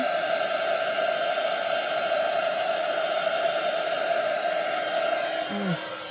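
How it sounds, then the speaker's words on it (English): A heat gun blows steadily over a green geode-style resin coaster with a constant, close airy whir that cuts off just before the end. "The thing's still moving pretty quickly with the heat gun, trying to not let it sit in one spot for too long"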